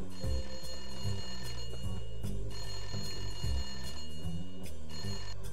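A phone booth telephone rings in a Fairly OddParents game, a repeated electronic bell tone in a steady rhythm over looping background music, with no talk.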